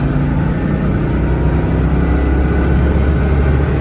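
A Citroën 2CV engine drones steadily while driving, a constant loud buzzing hum heard from inside the car with no talking.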